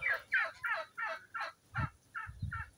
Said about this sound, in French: ça c'est des dindes. Des dindes et des poules aussi